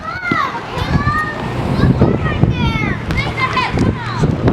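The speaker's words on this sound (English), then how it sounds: "You can hear the kids playing literally just one street" Children shout and chatter while playing basketball one street over, heard at a distance in a residential neighborhood as a lively, busy background of high voices and thumps.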